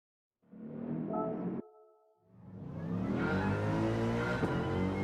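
Mercedes race car engine in Gran Turismo 7 revs hard, cuts briefly to a steady tone, then climbs again through the gears, loud and close with no talk.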